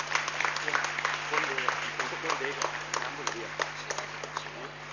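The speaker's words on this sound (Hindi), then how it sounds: "जोरदार तालियों से उनका स्वागत कीजिए।" An audience at a children's NGO dance festival in Mumbai welcomes a guest onto the stage with steady, fairly faint applause, dense clapping heard from a distance with some voices mixed in.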